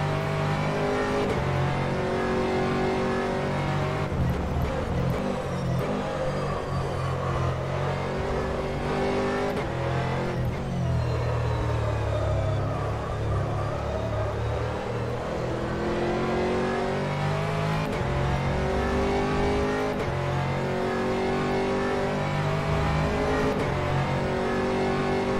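Aston Martin GT3 race car in a racing video game at Silverstone, its engine droning loud and steady throughout with rising and falling revs through gear changes, a continuous near roar with no talk.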